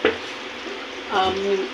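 Blended tomato puree hits hot oil with frying drumsticks for an egg and drumstick curry, a close sizzle that swells sharply after a quiet start as the puree goes in, with some stirring.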